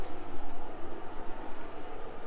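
A whole kettle of boiling water pours into the bottom of a roasting pan holding two chickens, a continuous close, gurgling splash that rises and falls in steady pulses for a couple of seconds, with no talking.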